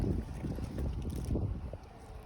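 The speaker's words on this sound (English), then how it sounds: "Ooh, scary wind." Wind gusts outdoors with low, rumbling buffeting against the microphone, steady and fairly quiet over the whole stretch, with no voices.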